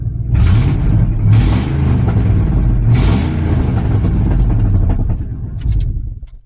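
A 2000 truck with a 5.4 Triton engine and a loud exhaust, rumbling close and heavy with several revs rising and falling before it drops away at the end.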